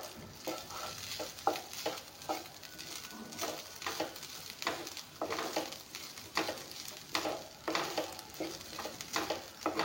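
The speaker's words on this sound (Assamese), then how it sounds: "চাউলখিনি অলপমান ভাজি ল'ম।" Rice grains being lightly fried and stirred in a pan over a very low flame, a steady soft sizzle broken by repeated scraping strokes of the spoon throughout, close and moderately loud with no talking.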